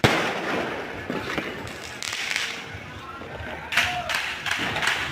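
New Year 2025 fireworks go off outside a condo in Soi Kamnan Maen 7, a dense, continuous crackle of bursts and pops with several sharper booms, heard close by under excited talking.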